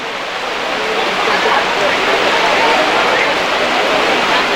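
Steady rain falls at an outdoor Shiv Mahapuran katha gathering in a village. It makes a loud, even hiss with no breaks for the whole stretch.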